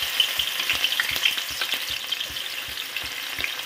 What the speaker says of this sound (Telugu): ఇదిగోండి ఆయిల్ వేడెక్కింది. ఇప్పుడు ఇందులో ఉల్లిపాయ ముక్కలు వేసుకుందాం.